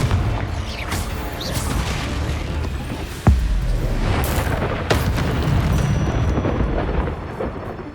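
The Confringo blasting spell in Hogwarts Legacy lets off a sudden booming explosion partway through, a sharp, heavy blast over a continuous rumbling background with a few other crackling bursts around it.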